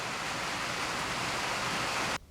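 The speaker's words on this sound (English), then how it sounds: "So the rain is starting to get a little loud out though" Dense, steady rain falling outside, a loud continuous hiss of drops filling the air that cuts off abruptly near the end, leaving near silence.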